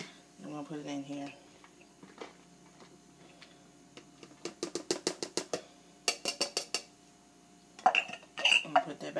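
Chopped chicken and crackers being emptied into a regular size bowl, with scattered clinks, taps and rapid rattling bursts of utensil against dish, quiet and intermittent with pauses between.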